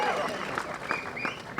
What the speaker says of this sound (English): It's so easy to get some applause